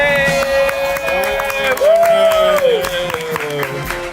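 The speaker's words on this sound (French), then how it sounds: "Venez, on l'applaudit nous, du coup." Audience claps and cheers for a clown guest wearing Yeezys, a broad crowd wash with a sustained musical tone and voices running underneath.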